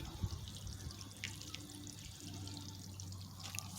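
Water spits and sprays from a pipe while a pool is drained, faint dripping and splashing with a low steady hum beneath, no talking.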